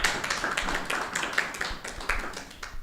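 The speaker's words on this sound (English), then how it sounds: "please give the team a huge round of applause for making this happen" Audience applause at a scholarship breakfast, a room of people clapping steadily with uneven sharp claps, moderately loud and heard alone for a few seconds.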